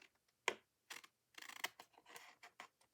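Scissors trim paper for index card file folders, giving a few crisp close snips with short gaps between cuts.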